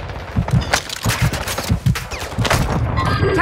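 Rapid bursts of automatic gunfire in a Call of Duty Warzone firefight on Ashika Island, loud and close, several clusters of shots in an uneven rhythm with sharp cracks cutting through.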